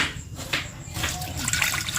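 Water is poured in a home kitchen, a short splashing stream that swells and fades in uneven bursts close by.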